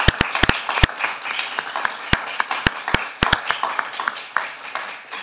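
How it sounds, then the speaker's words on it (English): Committee members in a congressional hearing room applaud their staff, a sparse scattering of sharp individual claps, some close and loud, others softer, with irregular spacing that thins out toward the end. "We can literally applaud them if you're up for it."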